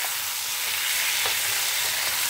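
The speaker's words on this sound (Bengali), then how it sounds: "এই যে আলু টমেটো লঙ্কা সবই দিয়ে দিয়েছি, একটু ভালো করে কষাবো" Potatoes, tomatoes and green chillies with turmeric sauté in a hot pan, giving a steady, close oily sizzle throughout with a few soft stirring scrapes and no talk.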